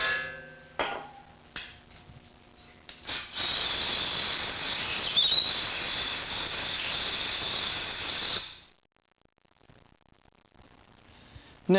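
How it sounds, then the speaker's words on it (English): Compressed air blasts in a strong, steady hiss for about five seconds, drying oil-cleaned threads in an engine block, then cuts off sharply into near silence. "Then dry it out with compressed air."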